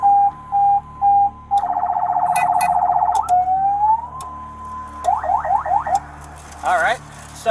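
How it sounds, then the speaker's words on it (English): A police car siren cycles through alternating patterns: short on-off beeps, a steady wail, quick rapid yelps, then a brief wavering burst. It is loud and close, with no talking. "it has a functioning siren to go with the lights"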